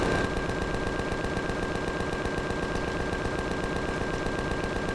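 Rapid, sustained automatic gunfire from enemies in the sci-fi survival game Empyrion, a dense unbroken rattle of shots that stays loud and steady throughout, with no voices.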